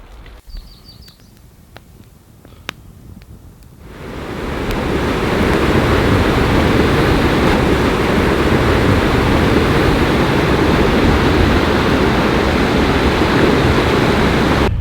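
Small waterfall beside a lunch stop on a canoe portage route in Woodland Caribou Provincial Park: after a few quiet seconds with faint ticks, a loud, continuous rushing of falling water fills the scene and holds steady to the end.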